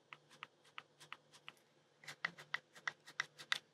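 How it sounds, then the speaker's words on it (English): Buttons on GoPro cameras, from the original Hero HD to the Hero 10, pressed one after another in a click test: a run of crisp, evenly spaced clicks, softer at first and then sharper and louder, close up. "Let's give it the click test here."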